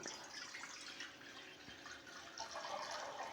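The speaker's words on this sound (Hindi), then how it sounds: "अब इसमें नाप के 1 लीटर पानी डाल दूंगा" One litre of water is poured into a kadhai on a stove, a quiet steady wash of running, splashing water that lasts throughout with no talking.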